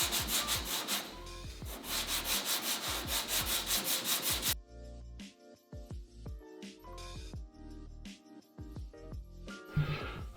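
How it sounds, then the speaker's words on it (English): A sanding block rubs back and forth over primer on the body of a wrecked 1994 MKIV Supra, giving rhythmic scraping strokes for about four seconds, then scattered quieter taps and rubs. "I used a sanding block and just go over sanding it in the same direction"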